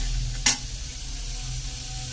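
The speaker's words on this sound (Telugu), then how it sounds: "మనం ఇప్పుడు నువ్వులు వేయించుకుందాం" Sesame seeds dry roasting in a pan without oil give a steady low rustling hiss, with one short bright scrape or clink early on; no talk.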